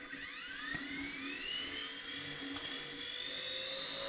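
Rotor of a Blade S3 Nano BNF AS3X miniature remote-control helicopter spins up with a high, whining electric-motor pitch that climbs steadily and holds, close and continuous with a faint buzzing hum underneath.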